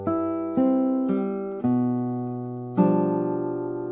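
A classical guitar plays a measure from a Julio Sagreras Book 1 lesson exercise: five plucked notes and chords sound one after another, each left ringing and overlapping, close and clear.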